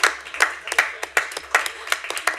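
A few people clap in a board meeting room, a short run of sparse, uneven handclaps close by, with some talk under them.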